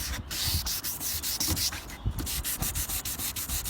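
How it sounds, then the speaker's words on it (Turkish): Steady rhythmic rubbing and scraping of sandpaper wet sanding a car headlight, close up, in repeated back-and-forth strokes with no talking. "Gördüğünüz gibi iyice zımparalamam gerekiyor burayı."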